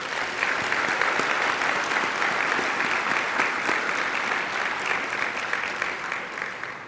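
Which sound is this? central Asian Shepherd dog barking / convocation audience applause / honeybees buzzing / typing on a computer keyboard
convocation audience applause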